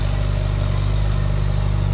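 A Kubota M7508 tractor engine idles nearby in a rice field, a loud, steady low diesel rumble with a regular throbbing pulse and slight mechanical clatter, no talking over it.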